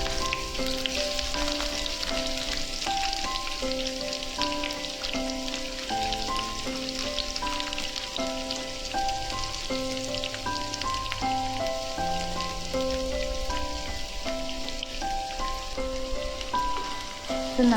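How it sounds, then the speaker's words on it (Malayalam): Chopped onions sizzle steadily in hot oil with curry leaves, a continuous, close frying crackle that runs without pause beneath faint music. "അരിഞ്ഞു വെച്ചിരിക്കുന്ന സബോള ഇട്ട് കൊടുക്കാം,"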